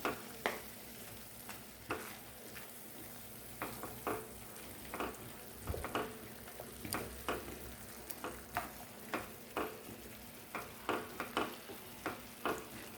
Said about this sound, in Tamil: சேர்த்து நல்லா மிக்ஸ் பண்ணி விட்டுருங்க